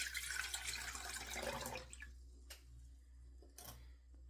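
Liquid poured from a container during cucumber seed saving, a soft splashing stream for about two seconds followed by a few faint drips and taps in a quiet room.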